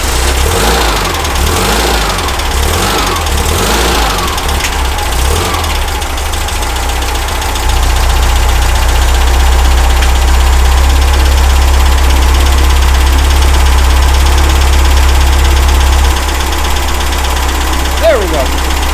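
A VW Baja Bug's air-cooled engine idles low and uneven, with a steady rough chug that picks up slightly partway through, while a person talks over it.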